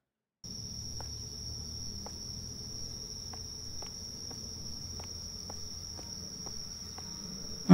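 Crickets chirp in The Bathhouse, a Chilla's Art horror game. A steady, shrill trill runs continuously after a brief silent start, with faint ticking sounds scattered underneath.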